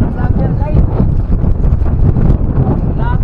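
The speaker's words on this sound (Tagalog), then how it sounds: "Ang lakas ng hangin oh." Strong monsoon wind buffets the microphone in loud, continuous rumbling gusts, with faint voices partly buried underneath.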